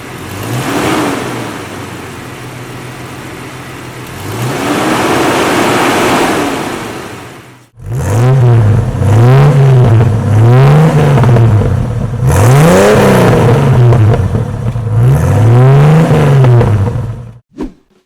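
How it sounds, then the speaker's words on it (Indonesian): A 1996 Jeep Cherokee Limited with its original, unmodified engine cranks and fires up, then is revved repeatedly in loud, rising and falling bursts close by, with no talking. "Kita nyalain mesinnya."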